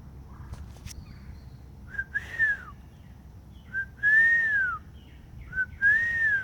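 A person whistles three short rising-and-falling two-part calls, clear and fairly close, with brief pauses between them over quiet background noise.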